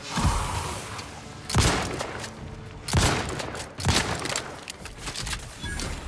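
Gunfire in the video game Outer Worlds 2, with several loud bursts of shots separated by short pauses, punchy and close over a low game background.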